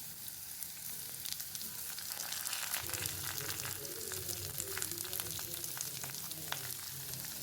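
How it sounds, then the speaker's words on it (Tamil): Beetroot sautéing in a pan with dried chillies and curry leaves gives a soft, steady sizzle, with occasional stirring scrapes and small crackles; the frying is fairly quiet and continuous, and nobody speaks. "இதெல்லாம் சேர்த்து நல்லா வதக்கிக்கு அப்புறமா நம்ம கட் பண்ணி வச்சிருக்கிற பீட்ரூட்டை அதுக்குள்ளே ஆட் பண்ணலாம்."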